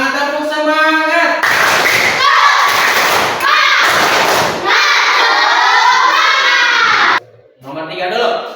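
A class of schoolchildren repeats a rhythmic spirit clap, bursts of patterned clapping and thumping hands layered with loud shouted group chanting, ending in a brief pause before voices resume.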